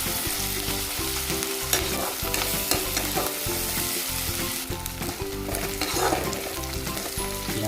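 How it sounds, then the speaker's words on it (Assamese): Onions sizzling and frying in hot oil, stirred with a spoon that scrapes and clinks against the pan in a steady, busy rhythm, close and fairly loud, while chicken curry is prepared in a home kitchen. "পিঁয়াজটো মই অকণমান বাদামী কালাৰ হোৱালৈকে ভাজি লওঁ পিঁয়াজটো তেলত পিঁয়াজ দিলোঁ"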